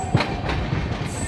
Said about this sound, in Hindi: इस तरफ कोई ट्रेन भी जा रही है